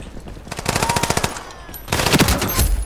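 Spectre gun fired in Ironsight: two rapid automatic bursts, each a tight string of sharp cracks, loud and close, separated by a brief pause.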